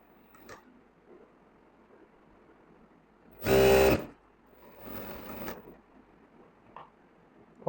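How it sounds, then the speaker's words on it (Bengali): A sewing machine top-stitches a trouser pocket in one short loud burst followed by a fainter second run, with quiet room tone between. "পকেটে চাপ সেলাই।"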